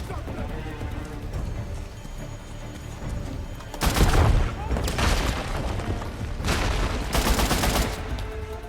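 AK-47 gunfire in the video game Uncharted: The Lost Legacy, rapid bursts and booming shots over a steady game backdrop, with a louder salvo midway and another near the end.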